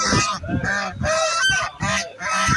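A duck calls in a village setting, a run of about six loud, close, nasal honking calls in quick rhythmic bursts, heard alone without talk.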